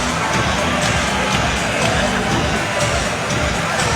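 Arena crowd at a WNBA Finals basketball game featuring the Aces roars and cheers continuously, loud and dense with babble mixed in.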